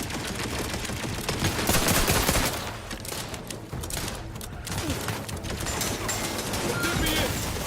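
Rapid turret gunfire in The Outer Worlds 2, sustained and dense, with loud bursts that surge and ease, mixed with shouting voices.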